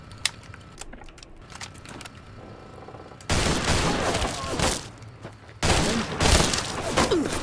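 Rifle gunfire in Fallout Tale of Two Wastelands during an assault on Legion forces: scattered sharp shots early, then two loud sustained bursts of firing and booms up close.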